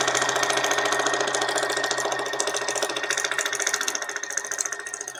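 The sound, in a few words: sewing machine stitching paper without thread, running fast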